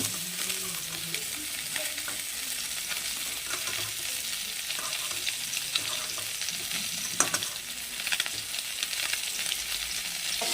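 Poa fish sizzles in hot oil with a steady hiss, broken by occasional scrapes and taps of a utensil against the pan, close and moderately quiet.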